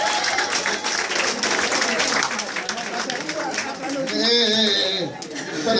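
A crowd at a religious gathering applauds and cheers for Jesus, dense clapping and voices filling the space loudly and continuously, with a brief shrill whistle-like tone near the end.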